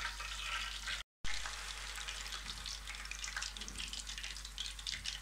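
A second batch of rohu fish pieces fries in hot oil, giving a steady, even sizzle that runs almost without a break, fairly faint and close with no talk over it.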